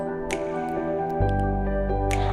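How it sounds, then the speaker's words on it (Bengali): Leftover malai kulfi milk mixture is poured into an ice cream mould, giving soft drips and wet squishing sounds over a steady background hum. "আর একটা মোল্টে আমি বাকি যে মিশ্রণটা আছে সেটা আমি ঢেলে দিচ্ছি"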